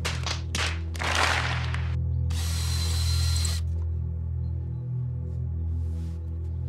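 A power drill whirs in a few short bursts up close, drilling a shelf pin hole in a solid wood TV stand, followed by quiet with a faint hum in the background.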